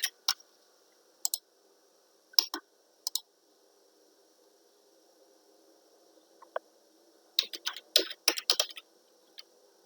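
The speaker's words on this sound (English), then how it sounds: "And I keep typing the station into the elevation box." Sparse bursts of keyboard typing, crisp clicks in short clusters separated by quiet gaps, close and fairly soft.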